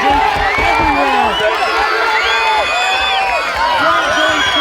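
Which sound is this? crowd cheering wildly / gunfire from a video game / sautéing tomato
crowd cheering wildly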